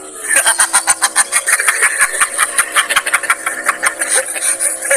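A motorcycle engine running close by, giving a loud, rapid chain of rhythmic pulses that continues steadily for several seconds without any talk over it.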